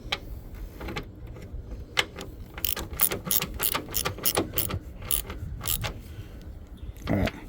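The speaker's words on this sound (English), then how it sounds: "Then I'm putting a ratchet on it." A ratchet tightens a battery terminal nut on a 2008 Chevrolet Silverado 2500, giving a run of quick, close clicking pawl strokes in an uneven rhythm over low mechanical background noise.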